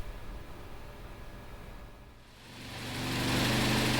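Car engine in a workshop, started during a crank sensor and reluctor wheel check: a low rumbling idle that dips briefly, then swells into a louder, steady running roar, fairly faint overall.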